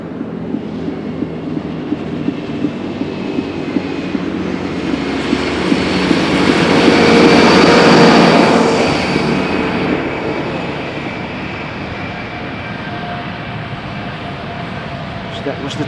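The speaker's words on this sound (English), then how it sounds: "So that was the tractor you heard." An airport tractor drives near runway 18R at Amsterdam Schiphol, its broadband engine rumble swelling to a loud peak around the middle and then fading, with steady background noise throughout.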